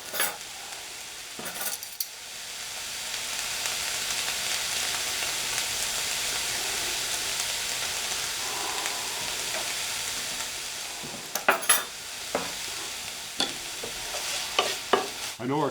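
Mushrooms, onions, shallots and garlic fry in a pan with a steady, close sizzle that continues throughout, while a utensil stirs and scrapes in clustered clatters near the start and end.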